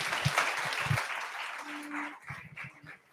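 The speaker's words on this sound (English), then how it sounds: "let's give a nice round of applause for the first panelist" Audience applause for a panelist at a strategic policy dialogue, a brief burst of clapping that fades under a low hum and soft room noise.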